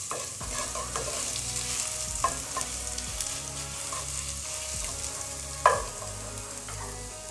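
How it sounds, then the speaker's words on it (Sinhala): Crushed garlic fries in hot oil in a pan for healthy homemade fried rice, a steady sizzle with scraping stirring strokes and occasional utensil knocks against the pan. "තෙල් එකේ අන්තර රත් වෙගෙන එනකොට මම මේ තලාගත්තු සුදු ලුණු ටික එකතු කරගන්නවා."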